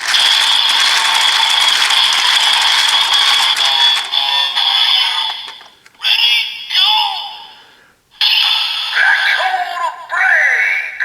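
A DX Evol Trigger toy from Kamen Rider Build plays loud electronic sound effects and music as its crank is turned, with a bright continuous burst followed by several shorter bursts separated by brief gaps.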